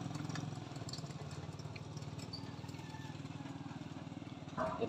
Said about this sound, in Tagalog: Umiinit masyado yung makina.